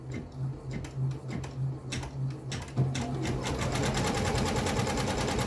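A Janome MB4 embroidery machine sewing an appliqué design taps out a slow rhythmic pulse, then speeds up into continuous rapid stitching, close by with no voices.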